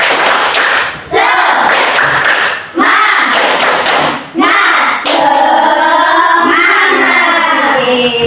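Students in an Islamic studies classroom perform a rhythmic tepuk semangat clapping ice-breaker, loud patterned bursts of claps and slaps separated by short pauses, with chanting voices joining in toward the end.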